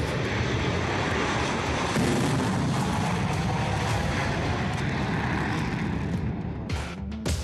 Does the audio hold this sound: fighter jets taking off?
yes